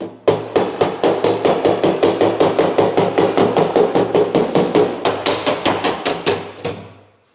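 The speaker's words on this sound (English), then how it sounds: "the point of the hammer and the dolly on the backside to just flatten out the metal" Rapid, evenly spaced metallic hammer blows ring out close up, dozens in a row with a brief pause near the end, as a hammer and dolly flatten car body metal on a Mitsubishi Evo 8.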